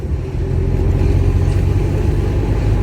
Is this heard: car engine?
yes